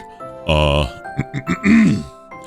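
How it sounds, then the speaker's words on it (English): A performed throat clearing from a single voice: a drawn-out, voiced grunt followed by a few short throaty bursts and a rising-falling groan, close and fairly loud. "I clear my throat."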